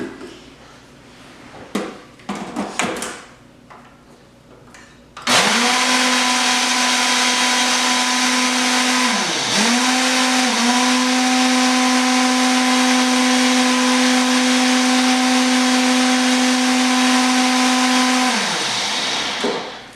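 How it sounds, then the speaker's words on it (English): A few clattering kitchen knocks, then a loud blender whirs on mixing a plant-based dressing, holding a steady high-pitched motor whine for about fifteen seconds, briefly dipping once, before spinning down. "quickly get that on the blender"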